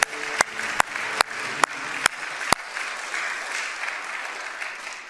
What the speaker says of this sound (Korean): 우리도 한번 크게 박수 한번 쳐주시죠.